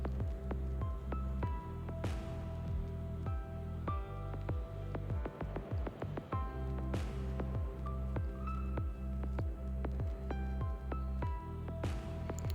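Water for chicken biryani bubbles in a pot with soft, irregular blips and drips at close range. Occasional faint clinks sound under a low background hum, and no one speaks.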